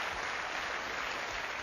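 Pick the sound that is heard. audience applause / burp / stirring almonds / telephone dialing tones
audience applause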